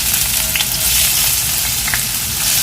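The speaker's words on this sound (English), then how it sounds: "Once the oil gets heated up, add the onions" Onions fry in hot oil in a pan, a steady loud hissing sizzle with faint stirring scrapes, close up and with no talking.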